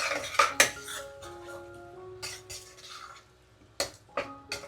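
Marinated prawns stirred in a metal cooking pot for a prawn pulao, giving sharp clinks and scrapes of a spoon against the pot in a few bursts, close and fairly loud, with quieter gaps between.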